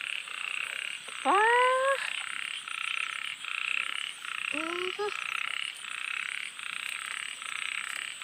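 Two loud rising frog croaks ring out close by over a constant shrill insect chorus.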